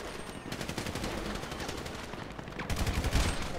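Rapid bursts of gunfire crackle continuously in GTA V Online, loud and close, with a heavier blast near the end, like automatic weapons.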